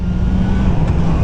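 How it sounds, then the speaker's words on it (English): Motorcycle on a Singapore road braking into a corner and downshifting several gears with throttle blips to match revs, a steady loud engine drone with rising and falling tone throughout, no talking. "Okay, we're gonna brake, downshift, downshift, downshift again."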